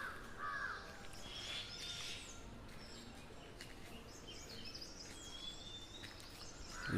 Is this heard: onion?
no